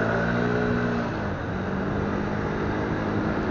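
A car engine revs and drones close by amid congested city-centre traffic in Marmaris Armutalanı, a steady motor roar with no voices.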